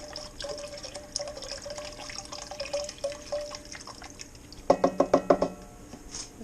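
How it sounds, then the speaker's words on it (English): Seafood stock poured into a soup pot, a soft liquid pour and trickle with a burst of glugging splashes near the end, close up with no talk. "We're going to add our stock. This is regular seafood culinary stock."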